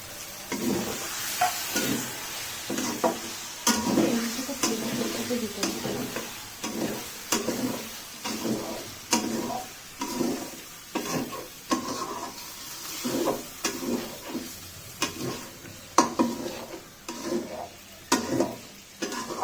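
Chopped tomato tossed into ginger-garlic paste frying in a pan for Peshawar chicken, with steady sizzling under a rhythmic run of spoon strokes scraping and stirring, close and moderately loud throughout.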